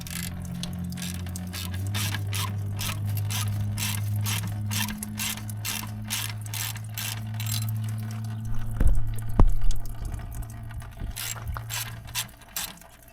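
A ratchet wrench backs out 10 mm radiator bolts on a Kubota tractor, giving a long series of rapid, close clicking strokes with a low hum underneath. A few sharp knocks come near the end, and no one talks.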